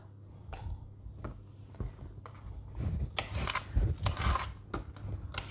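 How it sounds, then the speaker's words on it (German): A washed bell pepper is cut into bite-sized pieces with a knife on a cutting board for a Schaschlik casserole, giving a series of close, crisp chopping clicks and taps in an irregular rhythm with no talk. "Einmal abgewaschen und die werden jetzt in mundgerechte Stücke einmal geschnitten."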